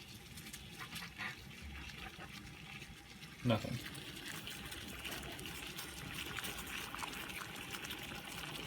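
Boiling water poured into a container to test a Kawasaki Mule 2510 fan switch, a soft trickling and pouring that grows steadier in the second half, with a brief knock and a voice speaking briefly.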